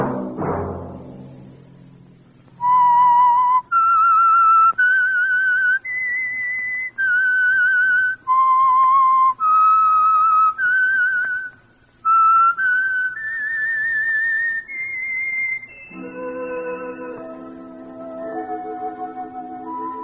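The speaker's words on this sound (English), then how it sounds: "Let that whistle be your signal for the Whistler." A clear, loud whistled melody of sustained notes with short pauses between phrases, the theme of 1949 radio drama The Whistler, ending as a low orchestral chord swells in.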